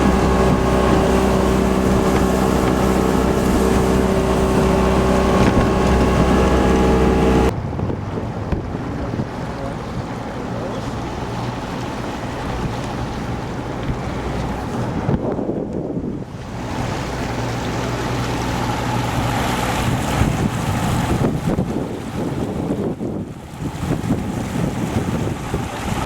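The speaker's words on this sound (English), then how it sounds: "Now we're going on the boat back to Lake Gippsland" Motorboat ride on Lake Gippsland, Australia, with a steady engine drone and strong wind buffeting the microphone over water and wash; the engine note is loudest at first, then wind and splashing dominate.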